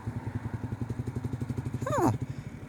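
Royal Enfield Classic 350 single-cylinder engine chugging at low RPM in fifth gear, an even, rhythmic thump that swells briefly as the throttle is opened, with a short vocal sound near the end.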